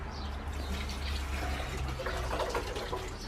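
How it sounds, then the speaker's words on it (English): Water from a 500 ml glass pouring down a small sink in a converted camper van, a soft steady trickle and gurgle draining close by, fairly quiet throughout. "it's just a case of pouring it down the sink"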